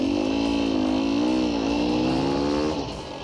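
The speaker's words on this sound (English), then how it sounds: "And that's just tire spin." A dirt bike on a single-track trail near Calabogie, Ontario revs hard with its tire spinning on rocks and slippery pine needles, a loud, sustained engine drone rising and wavering in pitch for about three seconds before easing off.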